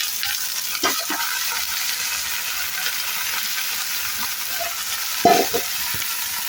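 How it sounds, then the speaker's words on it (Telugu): Cauliflower stirred into onions frying in a pan, a steady loud sizzle and hiss throughout, broken by a few clanks and scrapes of stirring. "ఇలా ఆనియన్ మంచిగా వేగినాక మనం దీంట్లో కడిగి పెట్టుకున్న క్యాలీఫ్లవర్ యాడ్ చేద్దాం."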